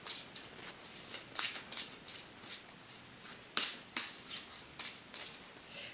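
Tarot cards are shuffled in a quiet series of soft, crisp riffles and slaps that repeat at an uneven rhythm over several seconds. They are close by, with no talking.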